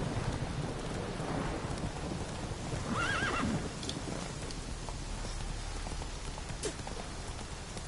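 Rain and distant thunder form a dense backdrop in The Witcher 3, with a horse whinnying once near the middle and faint clip-clop of hooves under the storm, no speech.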